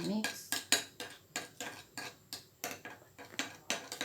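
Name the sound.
spoon stirring lotion mixture for cracked heel cream in bowl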